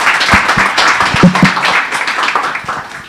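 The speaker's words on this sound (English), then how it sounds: "And let's give him a nice round of applause." Audience members at a colloquium give a short, brisk round of clapping that is loud and close. The individual claps come through clearly and start to fade after about three seconds.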